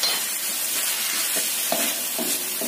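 Tofu mixture frying in a pan while being stirred, with a continuous loud sizzle and several scraping strokes of the utensil at irregular intervals. Nobody speaks.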